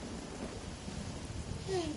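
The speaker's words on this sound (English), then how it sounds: "I'm getting out of this thunderstorm." Rain and thunder of a thunderstorm in the Genshin Impact video game, a faint steady wash of rain with a low rumble swelling near the end.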